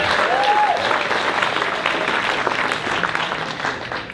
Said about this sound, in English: Another round of applause for Dino.